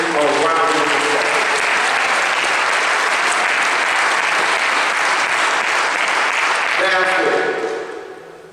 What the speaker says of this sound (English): Let's give the Friendship Baptist Church family a round of applause.